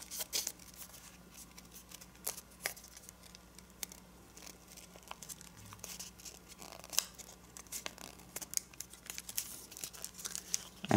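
A sheet of paper is folded and creased while shaping an origami dragon, giving faint, scattered crinkles and soft taps over a quiet background.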